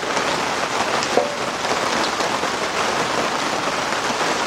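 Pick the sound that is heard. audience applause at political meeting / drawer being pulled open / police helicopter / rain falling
rain falling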